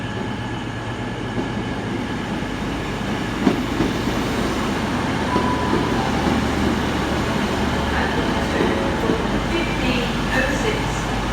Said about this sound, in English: as that train comes in